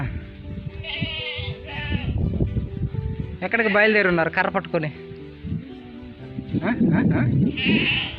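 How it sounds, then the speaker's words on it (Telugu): Several nearby goats bleat in wavering cries in a small tribal village among hills, scattered between a person speaking over the farmyard noise. "ఇక్కడ అందరికీ ఉన్నాయి మేకలు"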